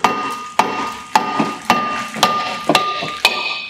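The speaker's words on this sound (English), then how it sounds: "I'm going to use the rubber hammer." A rubber hammer strikes the back of a front brake disc on a Toyota Celica, seven loud, regular thuds about half a second apart, each ringing briefly with a metallic tone.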